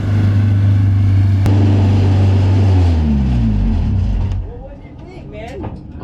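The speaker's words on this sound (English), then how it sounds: "You could hear VTEC cracking first and then it took off." A Honda VTEC-swapped pro truck launches hard, its loud close engine revving high and rising in pitch as it pulls away and fades, with crowd noise underneath.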